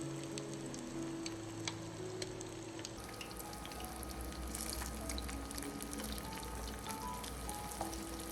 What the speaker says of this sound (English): I gently drop the eggs into the pan to fry. Immediately, the outer crust begins to sizzle lightly